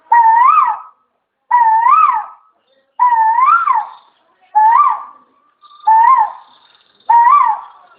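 A human voice imitates a bird call heard before sunrise, six loud whistled phrases with rising and falling notes, each about a second long and separated by short silences.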